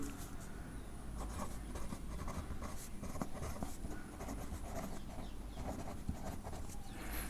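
A pen writes on paper while solving a maths exercise, a close, quiet, continuous scratching with short strokes and small taps and no voices.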